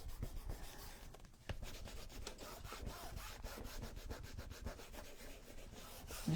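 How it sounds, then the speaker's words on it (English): Steady, close rubbing across a rub-on transfer as it is pressed into canvas for a spring Easter craft, a continuous dry scratchy friction with repeated short strokes and no talk. "So we're just going to rub that into the canvas real good."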